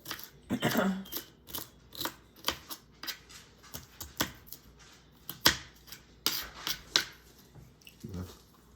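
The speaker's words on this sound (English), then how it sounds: "we are slicing up some celery, some carrots, and an onion" A knife slices through celery, carrots and onion on a board for homemade chicken noodle soup, giving a close, regular series of crisp chopping cuts, roughly two per second, quiet and without talk.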